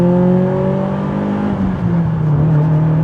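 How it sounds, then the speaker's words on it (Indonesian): A BMW M3 E30 Sport Evolution engine revs up in second gear under acceleration from around 4000 rpm, a loud, close, rising drone with a brief dip partway through and no voices over it. "Kita masuk gigi 2, jadi RPM berapa nih? RPM 4000, sekarang saya gas."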